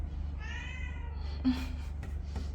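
A cat gives a drawn-out meow followed by a few shorter, softer mews, close by and fairly quiet over a low steady background hum.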